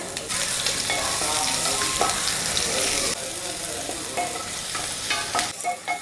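Sliced onions fry in hot ghee with whole spices such as cardamom, a loud, dense sizzle with steady crackling and occasional stirring scrapes, easing slightly partway through.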